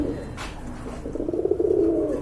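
Pigeons cooing at a pigeon sale, a low rolling coo building toward the end amid soft background noise.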